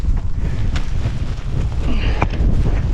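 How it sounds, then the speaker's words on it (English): Strong, gusty wind buffets the microphone on the exposed CMD Arete ridge of Ben Nevis in winter, a loud, steady rushing roar with rough low-end thumping throughout. "that side where there's quite a lot of wind"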